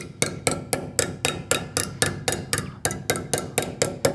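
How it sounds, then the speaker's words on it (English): Metal is struck repeatedly with a hammer during fold forming for jewelry, about sixteen evenly spaced, crisp blows in a steady rhythm, moderately quiet and close. "Hammer it down."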